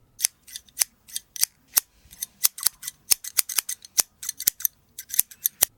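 Scissors snip through hair on top of the head during a haircut, with crisp, close metallic cuts arriving in quick uneven bursts and short pauses, no talking.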